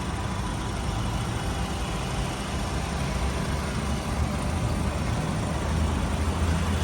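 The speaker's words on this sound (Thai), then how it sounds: "เครื่องยนต์เดินเรียบๆนะครับ" Engine of a Honda Accord G8 Mugen idles smoothly, a faint, even low hum that runs steadily throughout without changes in pace.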